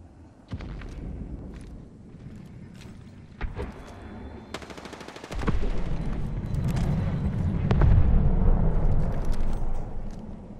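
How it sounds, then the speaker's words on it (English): Gunfire in the battle royale shooter Apex Legends: scattered distant shots followed by bursts of rapid automatic fire, growing louder and denser toward the middle and continuing as a sustained rattle. "Where is this gunfire coming from?"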